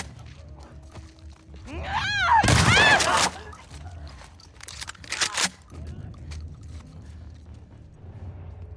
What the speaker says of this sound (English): But I have activated combat mode by shooting.